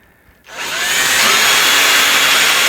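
A power drill spins up after a short pause and then runs steadily and loudly, boring a pocket close to the microphone.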